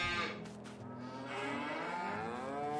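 Cattle in a farming survival video game give a long, loud, drawn-out moo that swells and continues without a break, with no talk over it.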